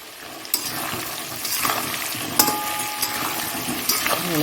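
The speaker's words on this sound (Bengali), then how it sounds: "ভালো করে ভাজা হোক" Potato pieces fry in a pan with salt and turmeric, giving a steady sizzle broken by the scrape and clink of stirring, close by and without talk.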